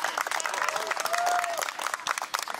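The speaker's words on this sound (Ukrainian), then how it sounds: "Аплодисменти." Crowd at a charity football match in Lviv applauding, a dense, continuous patter of clapping with a few scattered voices, fairly close and steady.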